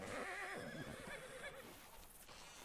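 A horse in the RedM video game lets out a loud, drawn-out neigh with a wavering whinny, heard close and alone before it fades out.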